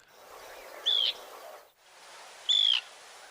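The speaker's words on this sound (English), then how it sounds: "This is an Arctic tern." An Arctic tern gives two sharp, grating calls about a second and a half apart, each short and clear over a soft hiss of background noise.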